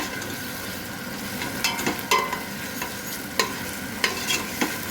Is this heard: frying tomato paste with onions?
yes